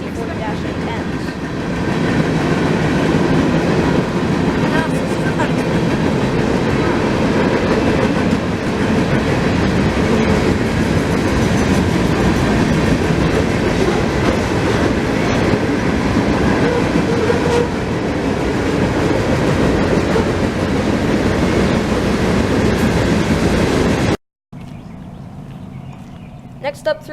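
Freight train with BNSF and Canadian National C40-8M locomotives passing at Folkston, Florida: a loud, steady roar of rolling railcars with rhythmic wheel clatter that cuts off abruptly near the end, with a voice talking over it.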